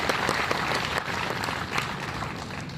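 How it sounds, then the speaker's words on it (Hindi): An audience at a Hindi poetry gathering (kavi sammelan) in Bhagalpur claps, a dense, sustained round of applause from many hands at moderate level, with no speech over it. "जरा जोरदार तालियां मेरे अनुज श्लेष गौतम को।"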